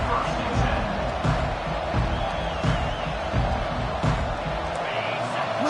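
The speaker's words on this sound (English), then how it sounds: "Listen to the crowd energy here in the early going." A large crowd at a college football game roars steadily throughout, a dense wash of cheering with a few louder swells, some voices audible within it.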